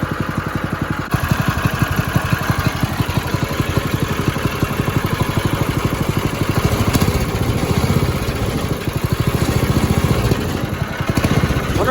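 A newly bought NASKART go-kart engine runs steadily at idle, its fast, even putter chugging nearby with a slight mechanical clatter, loud and continuous with no talk over it.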